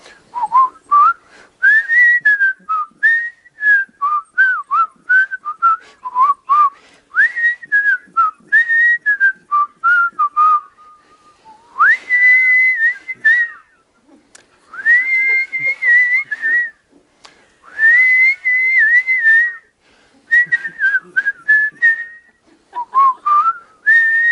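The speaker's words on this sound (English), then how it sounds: "We're all going to whistle together the theme song to the Andy Griffith Show." A group whistles the Andy Griffith Show theme song together, a bright, loud tune in short phrases with brief gaps between them, continuing for the whole stretch.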